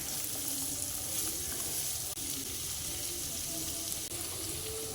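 Onions fry with salt in a pan for a pork fry, a steady close sizzle with faint stirring scrapes and a couple of small clicks, no voice heard.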